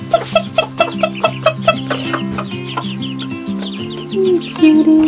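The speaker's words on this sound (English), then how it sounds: "I like to train my chickens so they come when I call." Several chickens cluck and chatter close by in a loud, busy chorus, with repeated short calls over a steady melodic background tune.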